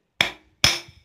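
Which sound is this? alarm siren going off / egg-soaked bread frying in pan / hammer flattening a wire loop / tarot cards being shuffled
hammer flattening a wire loop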